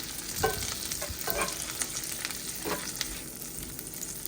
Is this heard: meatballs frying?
yes